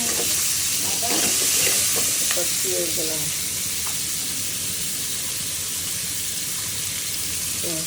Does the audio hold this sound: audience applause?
no